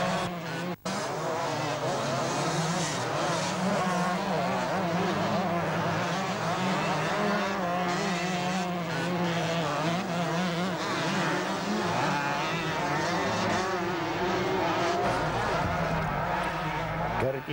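Race cars roar past on a rally-style circuit in Haapajärvi, engines loud and close with rising and falling revs and occasional tyre noise, while a commentator talks over the racing.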